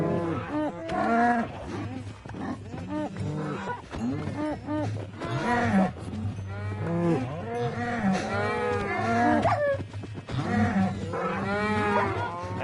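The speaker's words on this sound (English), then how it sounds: "When these guys are hopping around in the midst of a crowd of cows" A crowd of cows in the Minecraft video game moo repeatedly in overlapping, drawn-out calls, loud and near with no break across the stretch.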